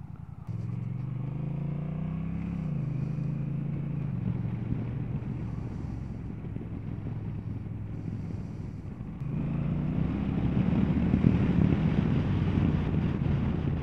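A Honda CMX 1100 Rebel DCT motorcycle is ridden, its engine drone rising and settling through gear changes under heavy wind rush, then swelling louder near the end as the bike accelerates.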